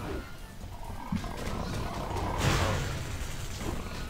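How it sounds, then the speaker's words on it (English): Thunder Clap ability in the World of Warcraft game, a deep rumbling boom with a whooshing burst midway, over a dense wash of game combat noise from many attacking enemies. "I'm thunderclapping and it's so loud because I've got like 10 things attacking me"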